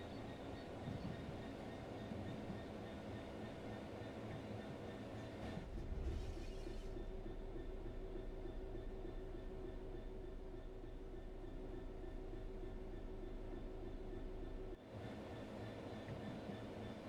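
Train coasting on level rails in Train Sim World 3, a quiet steady low rumble of rolling wheels with faint rail noise, briefly shifting in tone partway through, distant and even throughout.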